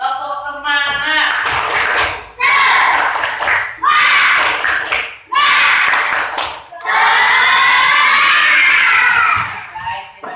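A class of Indonesian fifth-grade children does a rhythmic tepuk semangat clapping cheer, loud bursts of shouting and clapping in repeated chanted phrases, voices of many kids close and energetic.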